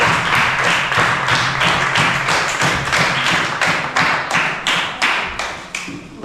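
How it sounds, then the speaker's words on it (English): Steady clapping from a youth public speaking competition audience in Paget Farm, Bequia, greeting a speaker; even, fairly close claps run throughout and thin out near the end, with no talking. "Let's give her another round of applause."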